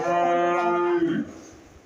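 A Holstein Friesian dairy cow gives one long, close, loud moo that holds steady for about a second and then trails off into quiet farmyard background.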